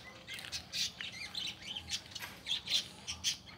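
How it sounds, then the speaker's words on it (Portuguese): A parakeet squawks and small birds chirp and sing on a rural country property, with faint, scattered calls repeating over quiet outdoor background. "os passarinhos cantando"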